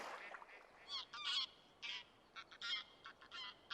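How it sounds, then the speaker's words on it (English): Wild geese honk repeatedly in short, nasal bursts, several birds calling in loose overlapping clusters at moderate distance in a Danube floodplain forest in spring, with no other sounds. "the calls of wild geese fills the air one morning"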